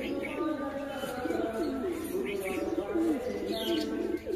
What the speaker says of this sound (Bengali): ও ওর পেছনে ডাকাডাকি করছে